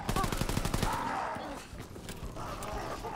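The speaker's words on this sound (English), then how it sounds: "machine pistol goes nuts" Machine pistol fire in the WW2 Zombies game The Final Reich, a fast rattling burst up close that stops after about a second, leaving game noise and a few faint thuds.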